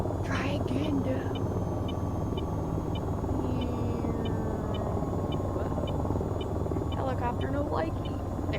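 A steady low rotor drone of a helicopter in a video game fills the whole stretch, with a light repeating tick above it, as people talk intermittently over the engine.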